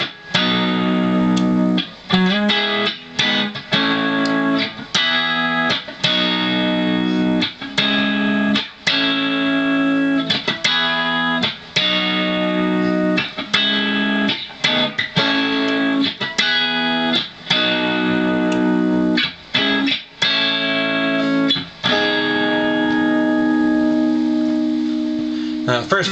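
An electric guitar plays the verse of a song on the middle four strings, a steady stream of picked chords and melodic fills with light effects, close and clear, running continuously with brief gaps between phrases.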